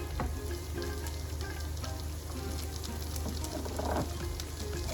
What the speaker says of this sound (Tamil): ஓகே, இப்போ நான் வெங்காயம் போட போகிறேன்.